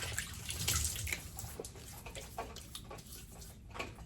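Water splashed by hand onto the face before a shave at a sink, close wet splashes and drips over a running tap, alone without talk.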